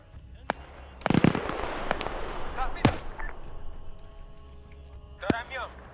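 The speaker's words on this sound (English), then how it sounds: "you can hear the gunshots from here" Sharp gunshot-like cracks, several scattered bursts, a few close and loud, amid game noise with people talking over them.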